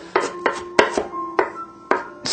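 A kitchen knife slices through an onion on a cutting board in about six crisp, unevenly spaced taps, close and clear with no voices.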